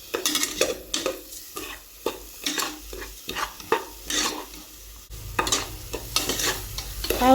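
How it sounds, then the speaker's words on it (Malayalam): Payasam ingredients being roasted with sugar in a pan for Ambalapuzha-style paal payasam, heard as repeated close scraping and stirring strokes against the pan in an irregular rhythm, with a faint sizzle underneath and no talking. "അതായത് ഒരു ക്രീം കളർ ഷെയ്ഡൊക്കെ വരുന്ന രീതിയിൽ ഒന്ന് വറുത്തെടുക്കണം കേട്ടോ"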